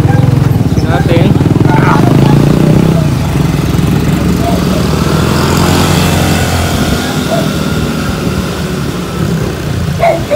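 Motorcycle engines rumble nearby on a road, heard from an electric scooter riding alongside. The traffic stays loud and continuous with wind noise, and someone speaks over it.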